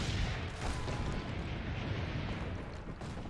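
Cannon explosions from the game Assassin's Creed: Brotherhood form a dense, continuous rumble of booms and blasts that stays loud throughout, with no voices.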